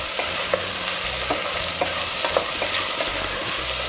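Celery stalks for minestrone fry and get stirred in a pan, a close, loud sizzle broken by repeated scraping strokes of a utensil, with no one talking.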